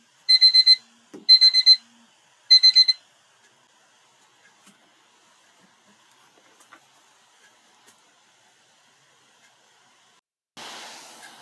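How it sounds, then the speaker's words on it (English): An alarm sounds three quick bursts of rapid, high-pitched beeps near the start, followed by near silence with only faint scattered clicks and a soft hiss at the end. "That alarm that went off."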